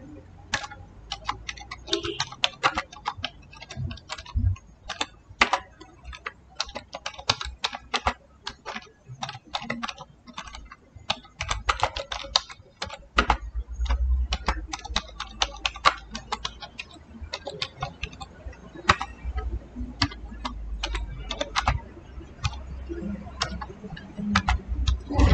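Someone types a value into statistics software on a computer keyboard, a long run of quick, close key clicks in uneven bursts with brief pauses between them.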